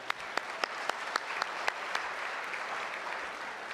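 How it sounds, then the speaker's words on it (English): At a city's State of the City address, an audience claps quietly in a hall, with a few sharp, distinct claps standing out near the microphone over the softer, spread-out clapping, which thins toward the end. "We deserve a clap for that."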